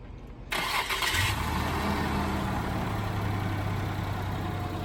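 An Acura SLX engine cranks briefly, catches and starts, then settles into a steady, loud idle close by.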